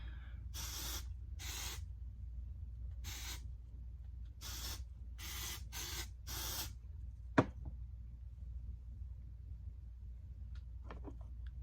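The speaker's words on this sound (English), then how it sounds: "Then I'm going to take my dry shampoo and just" Dry shampoo sprayed onto hair while it is styled for a messy bun: seven short, crisp hissing bursts of varying length, close and fairly loud, followed by a sharp click and a few faint handling sounds.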